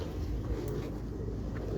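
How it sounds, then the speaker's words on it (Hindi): Pigeons kept on a Lahore rooftop give low, soft coos over a steady background hum, with a couple of brief murmuring calls and no talking. "ये खलीफा साहब के पास में कबूतर है"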